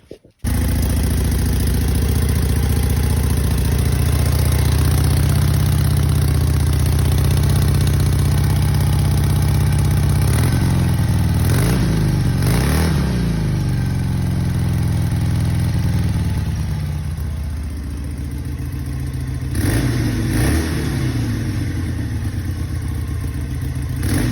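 A Harley Sportster with SharkRoad slip-on exhaust mufflers idles loudly from cold with a throaty burble, punctuated by several sharp revs that rise and fall, close to the microphone.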